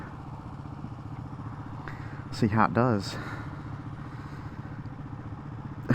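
A Kawasaki KLR 650 S single-cylinder motorcycle engine runs close by in a steady low thumping idle throughout, while someone speaks briefly over it.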